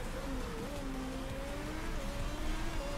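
Race cars pull into the pit lane in the Motorsport Manager racing game, a continuous even engine whine at moderate distance with a faint steady pitch that shifts slightly.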